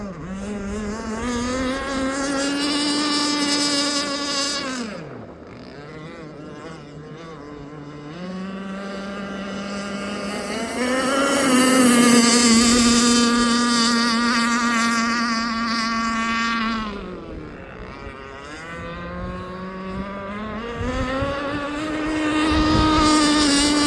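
An Aeromarine Avenger 44 gas RC boat with a Zenoah 29cc engine and steel Gizmo pipe screams at full throttle on the water, its buzzing whine rising and falling in pitch over several passes, loud and unbroken.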